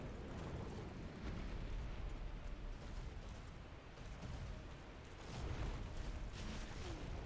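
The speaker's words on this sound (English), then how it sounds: "This is going to be the downward fire breath." A boss in the Dark Souls video game unleashes a downward fire breath attack, a faint, broad rushing roar with crackling bursts that swells twice without pause.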